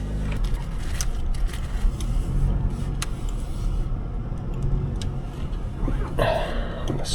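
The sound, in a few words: Nissan car engine running while driving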